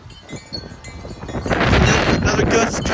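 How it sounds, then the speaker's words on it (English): Strong gusty wind roars through trees on a stormy day, building from a moderate rush into a loud, sustained blast that buffets the microphone, with brief exclamations from a person underneath. "Another gust coming."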